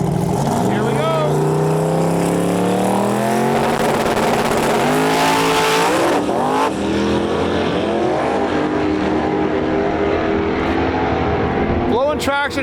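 Drag race cars roar down the strip at a dragway season opener, engines rising loudly through the gears with harmonic sweeps, then fading as another car passes; a voice talks over the racket.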